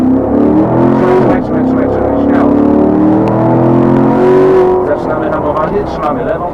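A Corvette C7 accelerates at full throttle on the Jastrząb race track, its V8 engine note climbing loudly through the revs from inside the car while someone talks over it.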